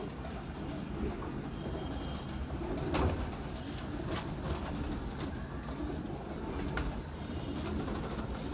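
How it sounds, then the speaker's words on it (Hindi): Steady pigeon cooing in a pigeon loft over a dense, continuous background murmur, with occasional soft flutters and bumps; no talking. "ये जी पाइन कबूतर, ये उसका डायरेक्ट बेटा है माशाल्लाह"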